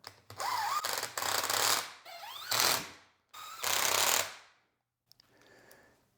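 Bolts on a rebuilt Toyota Land Cruiser 80 Series transfer case are tightened in a cross pattern, heard as four close, loud whirring bursts of a power tool separated by brief pauses, then a fainter final spin.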